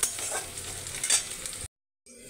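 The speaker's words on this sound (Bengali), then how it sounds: "কাঁচা লঙ্কাগুলো একসাথে নাড়িয়ে চালিয়ে ভালো করে এরকম করে নাড়িয়ে ভালো করে সুন্দর করে ভাজতে হবে" Green chillies sizzling in hot oil in a pan while being stirred, a steady near crackle with scraping strokes that cuts off abruptly, then a faint return.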